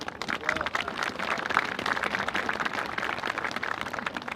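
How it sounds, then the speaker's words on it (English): An audience gives a round of applause at a Washington event marking the infrastructure spending bill becoming law, with dense, sustained clapping filling the room. "Give them a round of applause"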